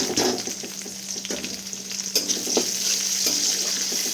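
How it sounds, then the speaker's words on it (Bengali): Chopped onion frying in oil with garlic for broccoli masala, a soft continuous sizzle broken by several scraping stirs of a spatula in the pan. "পেঁয়াজটা ভালো করে একটু ভেজে নেব।"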